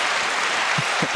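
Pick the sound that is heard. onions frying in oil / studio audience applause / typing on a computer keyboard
studio audience applause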